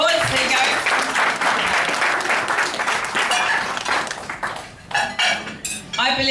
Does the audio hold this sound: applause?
yes